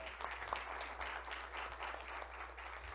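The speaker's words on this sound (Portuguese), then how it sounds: "Aplausos, por favor." An audience at a workplace seminar applauds as a thank-you trophy is presented: a faint, distant patter of clapping hands, steady for about three seconds.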